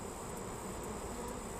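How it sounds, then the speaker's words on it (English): Honeybees buzzing at a hive entrance during a late-August inspection, many returning with pollen; a steady, close, even drone of wings with a faint high whine throughout. "if you watch the entrance, you'll see a lot of bees bringing in pollen"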